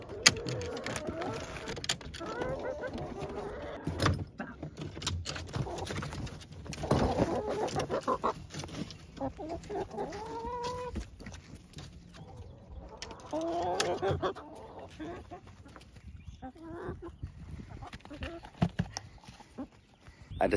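Olive Egger chickens cluck intermittently in short bursts amid shuffling and other farmyard noise, moderately close, with quieter stretches between calls.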